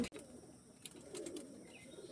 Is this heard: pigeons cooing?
yes